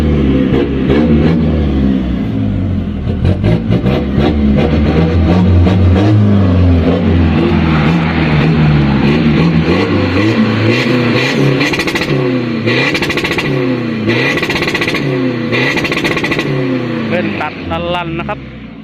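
A remapped 1.9-litre 2020 pickup engine revs loudly and repeatedly, its pitch rising and falling across the clip, mixed with a voice-like layer throughout.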